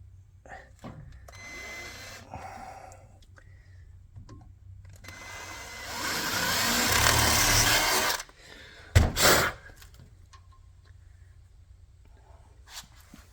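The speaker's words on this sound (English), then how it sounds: "So drill it, look on your drill index and get it 2 under a quarter" A power drill whirs steadily for a couple of seconds, drilling a hole slightly under a quarter inch for tapping threads, with quiet talking before it and a few sharp clanks just after.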